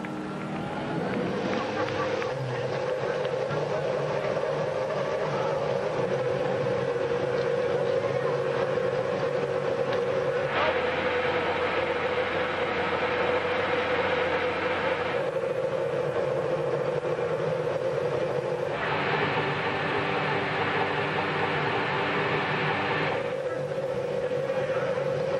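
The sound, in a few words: IndyCar race car engines started at the Honda Indy Toronto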